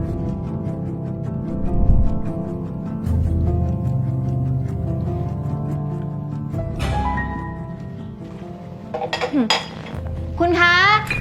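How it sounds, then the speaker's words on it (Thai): Dishes, pots and plates clink and clatter in a home kitchen during washing up, a steady run of metallic knocks and scrapes with brighter glass-like chinks near the end, voices talking faintly underneath. "ล้างจานเสร็จแล้วนะคะ"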